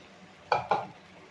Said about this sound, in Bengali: এবার আমি এখানে দিয়ে দেব আগে থেকে পরিষ্কার করে ধুয়ে রাখা চিকেনগুলো।